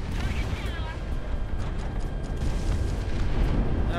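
A missile launches from a fighter jet in the combat flight game Project Wingman, a loud, continuous roaring rush with sputtering crackle that holds steady for several seconds.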